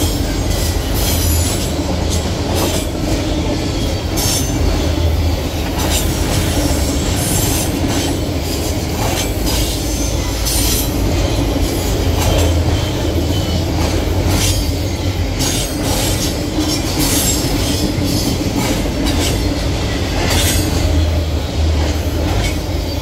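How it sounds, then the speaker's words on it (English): A GE C40-8 diesel locomotive rolls past with its train: steady loud rail noise carries throughout, with clickety-clack from the wheels and squealing on the rails. No talk. "The C40-8 was a widely successful locomotive and was aged."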